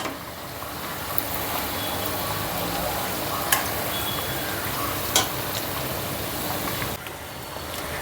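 Fried items stirred and turned in hot oil, a continuous bubbling sizzle with occasional sharp clinks of the spoon against the pan.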